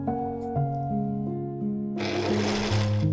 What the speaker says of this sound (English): I could then sew all the pieces of the cover together pretty quick